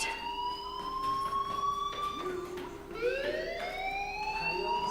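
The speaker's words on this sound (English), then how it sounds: "do you hear that fire alarm? That means you should be outside." A fire alarm sounds in the video game Life Is Strange, with rising and falling electronic siren-like tones that sweep upward, loud and continuous, with no talking.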